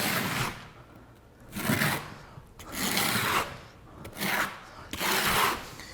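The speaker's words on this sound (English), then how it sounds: "Using the flat side of our trowel, we're burning this in." The flat side of a trowel scrapes thinset mortar across a backer board surface in repeated strokes, each a gritty rasping sweep with brief pauses between, close and clear.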